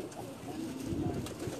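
A champion racing pigeon gives a soft, low coo close by on a rooftop, against a faint background murmur.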